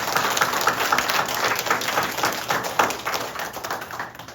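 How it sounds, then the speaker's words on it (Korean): A church congregation claps together during an anniversary service, a dense, steady patter of many hands filling the room at moderate loudness and thinning slightly toward the end. "우리 힘차게 한번 박수 한번 쳐드립니다."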